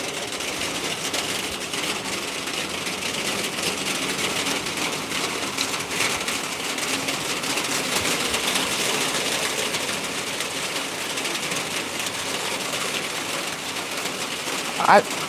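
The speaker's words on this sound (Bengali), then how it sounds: "সরে যা বৃষ্টি পড়ছে এখন" Rain falls as a steady, even wash of hiss throughout, with voices talking over it.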